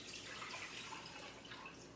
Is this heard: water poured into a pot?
yes